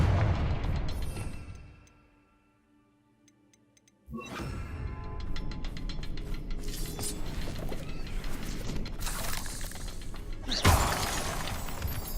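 A Confringo blasting spell goes off in Hogwarts Legacy, a loud burst followed by crackling, shattering debris and rumbling game effects, with a second sharp blast near the end after a brief quiet stretch.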